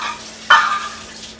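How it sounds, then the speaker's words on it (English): Warm water for Italian bread dough is poured into a bowl in one brief, bright splashing gush that fades quickly into quiet kitchen room tone. "we're doing 1½ cups of warm water"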